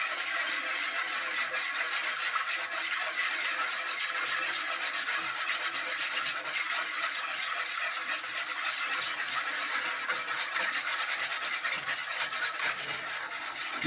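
Steady, continuous scraping of a utensil stirred briskly through a sauce in a pan while making lasagna bolognese, a dense rubbing texture that keeps on without pause for the whole stretch, fairly close and with no talking.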